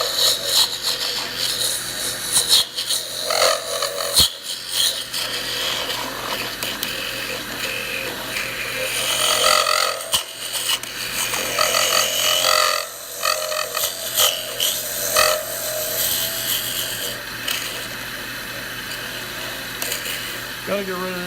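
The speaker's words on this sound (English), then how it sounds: "we're just going to take this little tool here and cut this out" A small wood turning tool cuts into a spinning piece on a lathe, producing rough, scraping, chattering tones that come and go in bursts, close by, with occasional spoken remarks.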